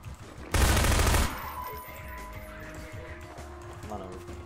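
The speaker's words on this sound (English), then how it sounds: "Machine gun." Burst of machine gun fire in the Half-Life 2 video game, a loud rapid rattle lasting under a second, then quieter game sounds and tones.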